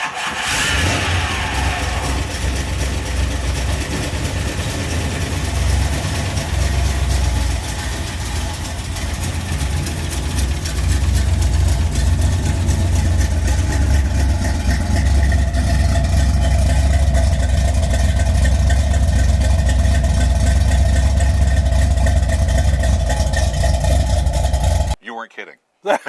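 A classic Corvette's 327 small-block V8 fires up in a garage, then settles into a steady, loud idle that swells as it runs, with voices talking over it, before cutting off abruptly.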